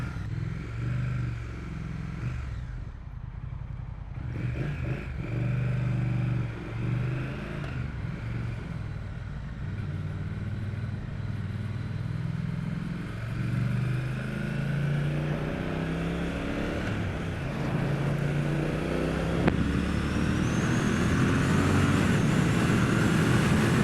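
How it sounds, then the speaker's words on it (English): A Triumph Speed Twin 1200cc twin engine runs continuously while riding, a low, steady throb that rises and falls with throttle changes, joined by rushing wind and growing louder toward the end. "That 1200cc Twin just gently throbs throughout the bike."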